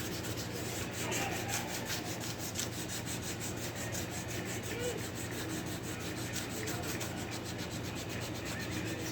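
A sanding block is worked by hand across a panel, blocking the surface down until the black guide coat is gone. It makes a steady, continuous rasping stroke up close, with no talk.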